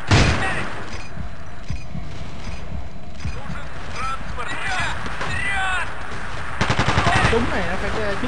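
Machine gun fire in Battlefield 2, the video game, with a 20 vs 20 match in a town map, rattling in short bursts amid other battlefield sounds and game radio voices, with a dense rapid burst near the end.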